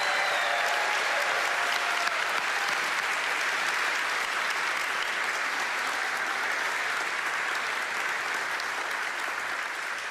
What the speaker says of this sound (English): Let's give one more round of applause to all of our master's students and our honors undergraduates.